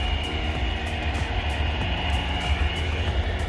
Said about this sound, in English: That's the only downside around here, is that railway line in the distance.